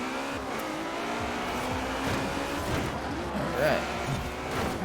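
A Ferrari Enzo and other racing cars roar along a tight, congested course in Forza Horizon 4, engines droning and revving with brief tire squeal near the end, under steady commentary from a man.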